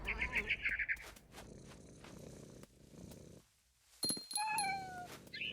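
A cat in the game What Remains of Edith Finch gives short meows and trilling cries, with soft purring and rustling movement between them, heard fairly close.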